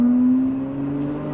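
A Lamborghini engine fitted with a 3D printed titanium exhaust hums and revs briefly, a close, smooth tone easing slightly as it settles.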